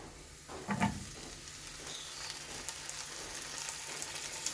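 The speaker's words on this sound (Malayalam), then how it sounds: "നമുക്ക് തക്കാളി ഇട്ട് കൊടുക്കാം" Chopped tomatoes tipped into a pan of sizzling fried onions, ginger and garlic for a mushroom curry, a brief splash and clatter followed by a steady soft frying hiss; no talking.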